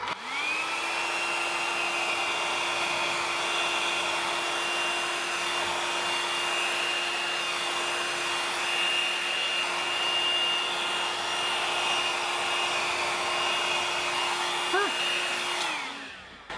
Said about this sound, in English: I will try and use the hairdryer and see what happens